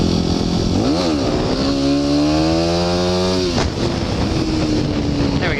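Dirt bike engine revving hard as it pulls up into a wheelie, pitch sweeping up and holding, then easing off the throttle near the balance point; loud, close and continuous with wind buffeting the microphone.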